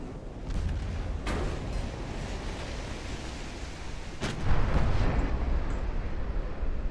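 Big battleship guns fire in Ultimate Admiral: Dreadnoughts with two heavy booms over a steady roar of broadband noise, the second blast swelling louder and rolling on to the end.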